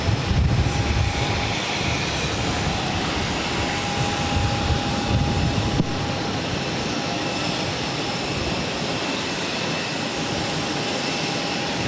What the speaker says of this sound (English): This Spirit A320neo will be taking off to Dallas, Fort Worth, flight 1709.